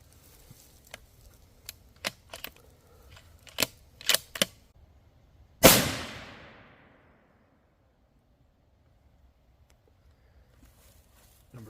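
A Savage 110 rifle in 6.5 Creedmoor fires one sharp, loud gunshot outdoors at a range, followed by a long decaying echo, preceded by scattered quiet clicks and handling noises.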